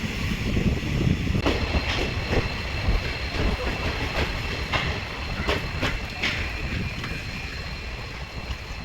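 Tutari Express rolls along the Konkan Railway near Sangameshwar, a steady loud rumble of wheels with rhythmic clacks over rail joints and wind buffeting, heard from inside the carriage.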